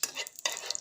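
Food stirred and fried in a pan over a low gas flame: scraping stirs and soft sizzling come in two short close bursts with a brief pause between.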